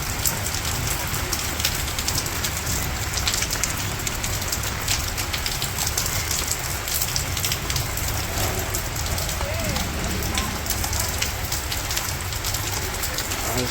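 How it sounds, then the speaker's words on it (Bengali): Steady morning rain falls on surfaces outdoors in a village, a dense, even patter that stays loud and continuous throughout with no clear talk over it. "আর সকাল সকাল বৃষ্টি, ভালো বৃষ্টি আনতেছে।"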